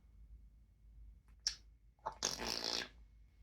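A parrot imitates a fart: a short burst, a brief pause, then a longer raspy spluttering noise, close and fairly clear.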